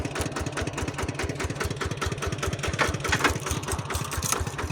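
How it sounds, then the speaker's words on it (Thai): A two-wheel walking tractor chugs steadily up close, its single-cylinder engine knocking in a fast, even rhythm with a rattling clatter on top and no break in the sound. "นี่รถไถยางตามเห็นบ่นี่"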